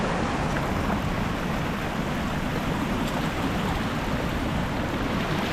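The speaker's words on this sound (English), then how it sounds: "Look at the pretty waterfall." A waterfall in Wales roars in a dense, unbroken rush of falling water, loud and close throughout, with no voices.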